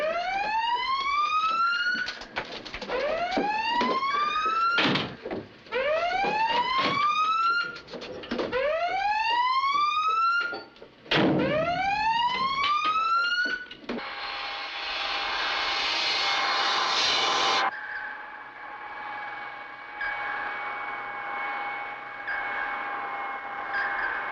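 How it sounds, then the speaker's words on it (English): In a 1958 submarine war film, a collision alarm sounds as a run of rising, whooping siren sweeps repeated about six times. A burst of rushing noise and a lower steady tone follow. "Sound collision alarm."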